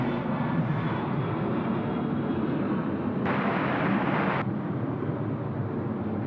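A plane at Sydney Airport at night gives off a steady, broad engine roar, heard from a distance, that swells briefly partway through.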